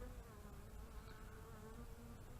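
Bees fly in and out of a vacant top bar hive late in the season, making a faint, steady buzz that hums without a break and with no voices over it.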